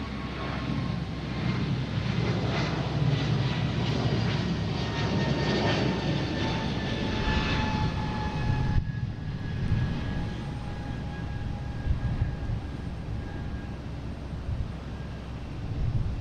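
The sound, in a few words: Delta Airbus A220 jet taking off at Boston Logan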